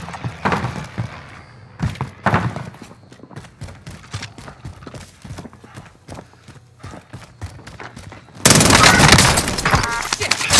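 Gunfire in Call of Duty Warzone on Rebirth Island, a trios match on PS5: scattered sharp shots and thuds build through the clip, then a loud dense burst of fire takes over near the end.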